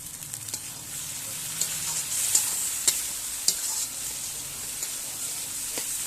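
Chopped tomato frying in oil for chicken curry is stirred in a pan, giving a steady soft sizzle with scattered sharp scraping clicks of the spoon, fairly quiet and without talk.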